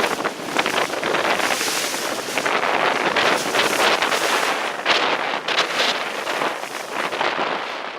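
Strong, steady wind roars and buffets the microphone for the whole stretch on Sydney Harbour, with surging gusts and a faint wash of water beneath.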